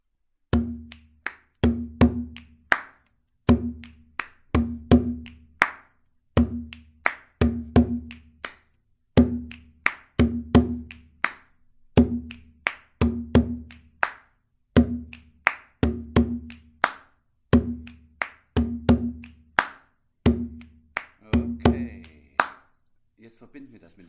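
A body percussion pattern carried over to a hand drum, repeated in a steady loop of deep drum strokes and sharp slaps, close and clear, ending with a short pause and a softer final sound.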